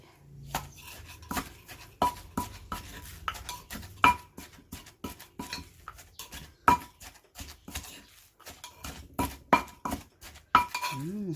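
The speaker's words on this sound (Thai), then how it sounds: "เพิ่มเกลือสักหนึ่งช้อนโต๊ะค่ะ จากนั้นก็โขลกเลย" Rhythmic pounding of salted fish chili paste with added salt in a mortar and pestle, a steady series of close, sharp knocks repeating through the whole stretch, without voices.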